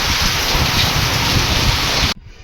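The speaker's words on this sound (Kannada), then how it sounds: "ಮಳೆ ನೋಡ್ರಿಪ್ಪ ಫುಲ್ಲು ಜೋರು ಸ್ಟಾರ್ಟ್ ಆಗಿಬಿಟ್ಟೈತಿ." Heavy rain pouring down, a loud, dense hiss with low rumbling that suggests thunder, nearby and continuous before cutting off abruptly near the end.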